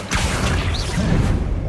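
Accio summoning spell in Hogwarts Legacy, a quick swooshing pull followed by a rumbling thud and sparkling magical effects, loud and close.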